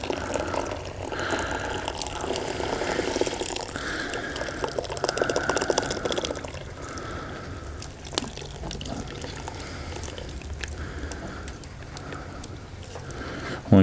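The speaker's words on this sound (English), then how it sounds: "I'm going to add 1 can of beef broth." Beef broth from a can pours in a steady liquid stream into chili cooking over an open fire, gurgling and splashing close by for several seconds, then tapering to a few drips and small knocks.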